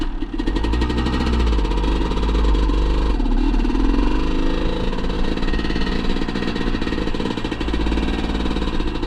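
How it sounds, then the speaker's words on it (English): A motorcycle engine warming up idles loudly and steadily up close, a rough, rapid chugging that holds an even pace throughout with no voices. "We're gonna warm her up."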